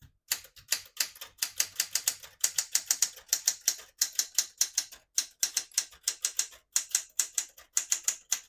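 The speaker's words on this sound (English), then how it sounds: "Beautiful typing machine." A 1969 Smith-Corona Classic 12 portable manual typewriter clacks rapidly and crisply in bursts of keystrokes with short pauses, close up and with no voices.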